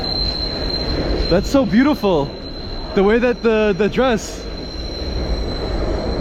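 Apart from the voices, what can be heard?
subway train passing with squealing wheels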